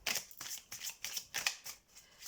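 Oracle cards are shuffled in quick riffling bursts, several close crisp flurries in an uneven rhythm, fairly quiet and with no talk.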